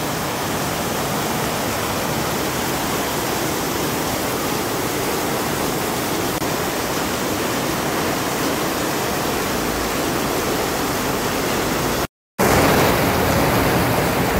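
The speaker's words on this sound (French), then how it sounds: "J'ai cru que c'était une cascade d'eau. C'est la pluie." Heavy rain pours in Singapore in a dense, roaring hiss, loud and unbroken, like a waterfall, with a brief dropout near the end and no voices.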